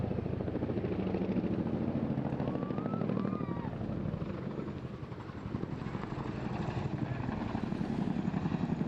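A Chinook twin-rotor helicopter flies a display at a seaside airshow, its rhythmic rotor thudding steady and fairly loud, swelling and easing slightly as it maneuvers, with faint voices or a loudspeaker briefly audible over it.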